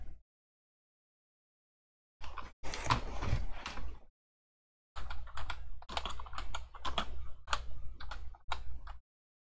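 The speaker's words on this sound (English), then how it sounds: "But let's just type this in." Typing on a computer keyboard, close and fairly quiet, comes in two bursts of rapid irregular key clicks separated by a short pause, with no voices.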